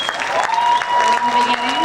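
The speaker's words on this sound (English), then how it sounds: "Please give another round of applause for Gabe." Applause at a school symphonic band spring concert, a steady wash of clapping filling the whole moment with a tonal hum running underneath.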